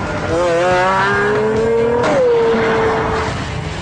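A 650-horsepower Pagani Zonda accelerating hard, its engine roaring loud and close, climbing steadily in pitch, briefly dipping at a gear change, then pulling on at full volume.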